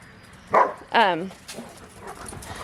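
A pet dog barks twice at a campsite with a new instant tent set up for a Yosemite trip, two sharp close barks in quick succession followed by softer whimpering sounds.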